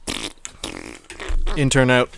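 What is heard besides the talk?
fart sound effect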